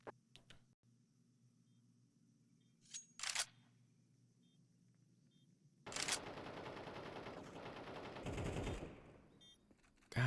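Gunfire in a competitive esports shooter match comes as a quiet, distant crackle, with a couple of sharp isolated shots followed by a sustained burst of rapid fire near the end.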